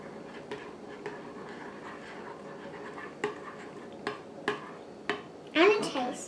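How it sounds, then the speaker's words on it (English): Spoon scraping and clinking against a bowl while chocolate truffle batter is stirred, a few sharp intermittent taps and scrapes at moderate distance, then a louder rattle at the end. "Finish stirring it up."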